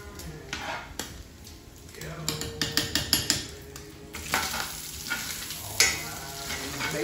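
Bacon frying in a pan for nilgai chili, a steady crackling sizzle with a quick run of rhythmic metal scraping and tapping in the middle and occasional clinks, close and moderately loud.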